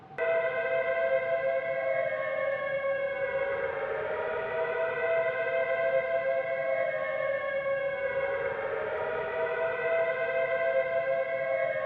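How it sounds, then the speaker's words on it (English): Air raid sirens wail in the Prisoner of War video game, a steady loud electronic howl whose pitch slowly rises and falls in long sweeping cycles for the whole stretch, with no voices. "Have the chaps ready to move as soon as we hear those air raid sirens."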